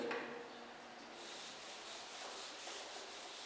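Writing being rubbed off a board with a duster, a soft continuous close scrubbing hiss in gentle back-and-forth swells, quiet and alone.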